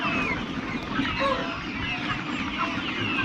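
Broiler parent stock chickens on a rural Bangladeshi farm crowd together at feeding time, a dense continuous mass of clucking and squawking from many birds, close and fairly loud with a faint voice underneath.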